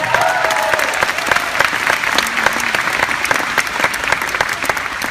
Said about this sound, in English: Give your dream a round of applause right now